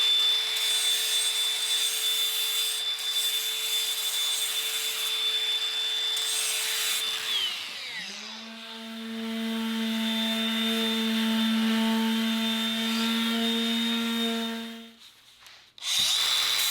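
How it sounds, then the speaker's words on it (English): A power sander works a wooden farmhouse table with 60 grit sandpaper, giving a steady whining hum that shifts pitch midway and then cuts off near the end. "And then we're going to hit it with a 60 grit sandpaper."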